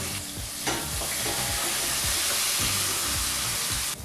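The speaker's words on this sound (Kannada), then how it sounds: "ನಂತರ ನಾವು ಈರುಳ್ಳಿನ ಸೇರಿಸಿ ಒಂದೆರಡರಿಂದ ಮೂರು ನಿಮಿಷ ಈರುಳ್ಳಿನ ಎಣ್ಣೆಯಲ್ಲಿ ಫ್ರೈ ಮಾಡ್ಕೋಬೇಕಾಗತ್ತೆ" Onions frying in oil for vangi bath gravy, a loud, dense, continuous sizzle with rhythmic stirring knocks and scrapes of a utensil in the pan, close up and without speech.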